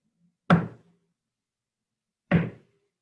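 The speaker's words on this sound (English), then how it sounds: "How many times did I knock that time?" Two separate knocks on a hard surface, sharp and loud, about two seconds apart with silence around them.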